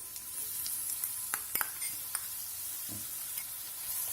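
Onion sautéing in light olive oil in a pan, a soft steady sizzle with a few sharp clicks and scrapes of stirring, close and moderately quiet, no voices.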